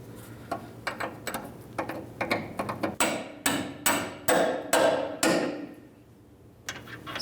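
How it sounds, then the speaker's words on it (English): Hammer blows drive a lower bolt into a leaf spring shackle on a 2005-2010 Dodge Dakota, a steady series of sharp metallic strikes that grow louder toward the end, then a short pause and a final tap. "Now we can put in our lower bolt."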